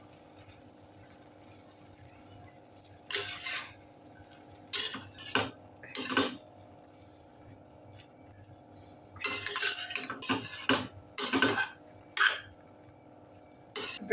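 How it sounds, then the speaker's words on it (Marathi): Prawn fried rice being stirred and tossed in a pan with a spoon, irregular clattering scrapes and clinks of metal on the pan coming in bursts over a quiet background, no talking. "आता हे सर्व मिक्स करून घेऊया."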